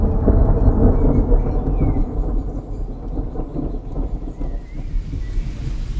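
Heavy rain pours down outside a hut in suddenly worsening, colder weather, with deep rolling thunder rumbling beneath a constant loud patter of drops on surfaces and no voices.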